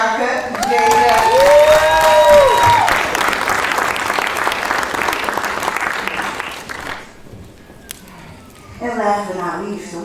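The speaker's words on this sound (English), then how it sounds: "Please clap it up for Bianca J." An audience applauding and cheering at a hackathon opening ceremony, loud crowd clapping with a whoop early on, fading after several seconds before a voice begins speaking.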